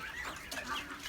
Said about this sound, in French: un petit coq Pékin porcelaine